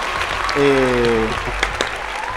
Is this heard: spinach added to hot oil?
no